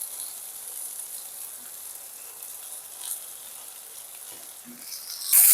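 Eggplant pieces fry with partly cooked potato in a pan, a soft, even, continuous sizzle at low volume with a brief louder burst at the very end.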